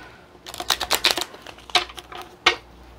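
Tarot cards being shuffled by hand, a run of quick papery riffling clicks and flicks, close and fairly soft, with a pause and a final sharp snap of cards.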